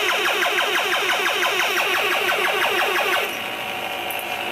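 A little gray booster machine gives off a rapid run of repeated rising, accelerating engine-like whines that climb for about three seconds, then cut off and leave a steady hum.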